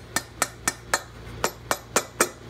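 Hammer tapping on the studs of a Shovelhead motorcycle cylinder head during a restoration: eight light, evenly spaced metallic taps about a third of a second apart, close and crisp, with a faint hum underneath.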